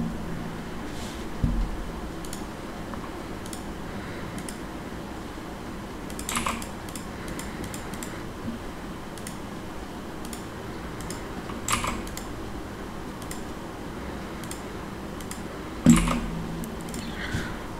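Keys on a computer keyboard are tapped in short scattered bursts with pauses between, soft and close over a faint background hum, as values are entered into an app-building tool.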